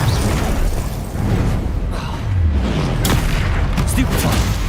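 A Confringo explosion spell bursts with a loud boom in Hogwarts Legacy amid dense combat noise, with a player's voice shouting spell names throughout.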